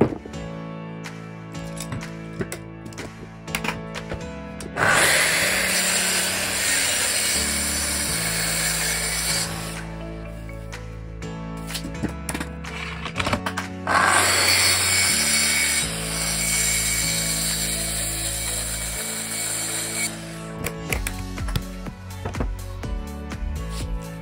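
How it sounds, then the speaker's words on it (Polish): Power saw ripping through wood panels while cutting parts for a rolling workshop cabinet on wheels, two long loud cuts of about five seconds each separated by quieter workshop noise, with no talking. "Także rozkoszujcie się dźwiękiem piły."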